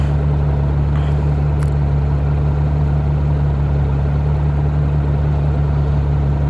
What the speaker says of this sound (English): Man, that Ferrari is noisy.